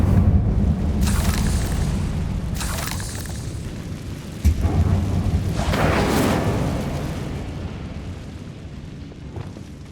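A fire spell cast in Hogwarts Legacy, heard as a series of loud, close whooshing fiery bursts and booms over a continuous rumbling roar, with no talk.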